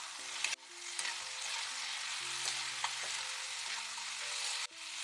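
Thinly sliced, unpeeled bitter gourd frying and being stirred in a pan produces a steady, close sizzle with a few sharp clicks from the stirring, under soft background music.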